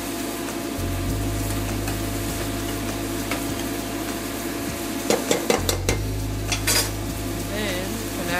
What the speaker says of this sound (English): Now you're going to add your tomato paste.